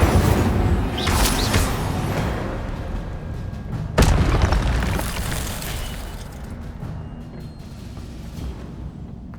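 A burst of fire magic cast in Hogwarts Legacy, loud booming explosive whooshes with a sharp blast near the middle, over a steady roar of game ambience.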